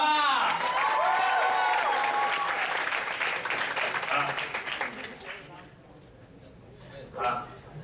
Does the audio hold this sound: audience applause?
yes